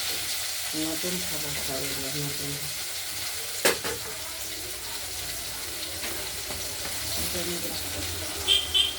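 Okra and potatoes sizzling in a pan as a constant soft hiss, with a couple of sharp utensil clicks and a voice murmuring faintly underneath.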